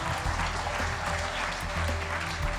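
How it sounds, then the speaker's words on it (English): Sustained audience applause at a bass fishing tournament weigh-in at Kentucky Lake, an even, continuous clatter of many hands with a low rumble of crowd noise underneath. "Let's have a nice round of applause for John Wilson."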